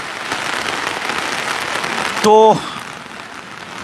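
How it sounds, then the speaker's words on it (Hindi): Heavy rain pours steadily on a farmers' protest camp with wet tents, a dense continuous hiss throughout, while someone speaks briefly and a short tonal burst cuts in near the end. "अब बारिश तेज हो गई है"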